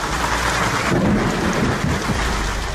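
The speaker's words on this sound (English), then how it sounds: "the latest storm fronts have seen hail hammering down the northern suburbs and northern beaches" Heavy rain and thunder from a storm front bringing large hail, near golf-ball-sized hailstones, over Sydney's northern suburbs and northern beaches; a dense, steady roar with low rumbling throughout and no voices.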